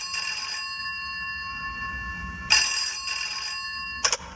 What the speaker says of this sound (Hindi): उसके कमरे का लैंडफोन बजा।